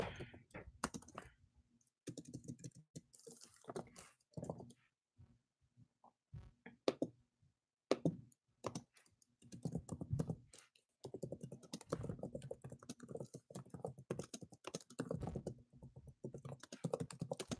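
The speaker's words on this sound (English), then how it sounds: "Let me type it." Rapid bursts of computer keyboard typing, close and clicky, coming in uneven runs separated by short pauses, with denser continuous keystrokes in the second half.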